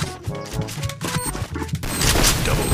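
A grenade blast in Garena Free Fire, a heavy crash that erupts partway through amid rattling gunfire and impacts, loud and close, with the noise staying dense afterward.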